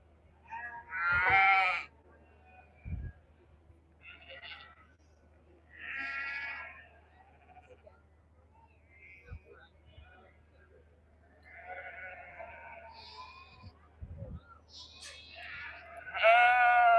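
Valais Blacknose sheep bleat several times at a show judging ring, loud nearby calls spaced across the scene over a low steady hum, with occasional clunks and a voice speaking between bleats.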